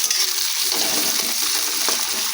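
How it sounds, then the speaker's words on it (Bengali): Chopped onion sizzling in hot mustard oil, a constant crisp frying hiss close by with occasional clinks and stirring noises, no voices. "পেঁয়াজটাকেও ভালো করে ভেজে নিচ্ছি।"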